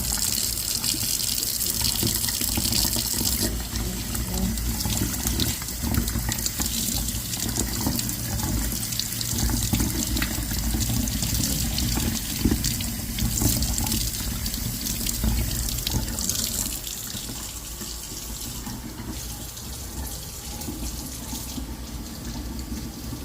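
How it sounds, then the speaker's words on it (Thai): Tap water runs steadily over Amanita mushrooms being rinsed in a sink, a continuous close gushing splash that holds for over twenty seconds, shifting slightly as the mushrooms are moved under the stream. "เราต้องล้างกับน้ำไหลนะเจ้าเนาะ"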